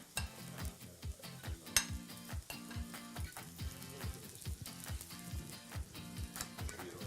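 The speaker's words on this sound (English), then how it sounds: "We start by sauteing the mushrooms." Button mushrooms sauté in extra virgin olive oil in a pan, giving a steady close sizzle broken by repeated rhythmic scrapes and clacks of stirring, with no voices.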